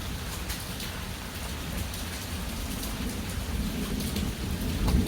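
A thunderstorm with steady rain pattering on surfaces while low thunder rumbles build toward the end, moderately quiet and without talk.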